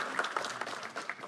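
An audience at a youth council debate in Płock gives a short burst of scattered, fairly distant clapping.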